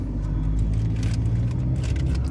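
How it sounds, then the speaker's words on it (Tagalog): Steady road traffic rumbles outside a busy shopping mall in Seeb, Oman, with car engines droning continuously and occasional louder passes rising over the constant low roar. "Kaya traffic dito banda."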